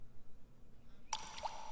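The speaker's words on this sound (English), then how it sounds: "The dripping sound." A single water drip, with a short plop and wet splash at the end, following near-silence, played as a sound effect in a podcast recording.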